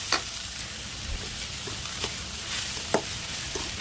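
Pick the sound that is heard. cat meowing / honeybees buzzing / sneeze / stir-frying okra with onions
stir-frying okra with onions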